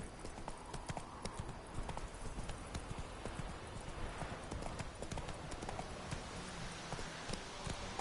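Hooves of the horse Roach clip-clop in a brisk, steady trotting rhythm throughout, close and clear, amid the game world of The Witcher 3: Wild Hunt.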